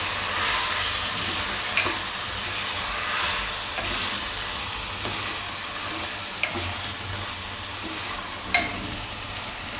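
Rice with green chickpeas and potatoes being stirred in a hot frying pan, a steady sizzle under repeated spoon scrapes and a few sharp taps on the pan rim, alone without talk.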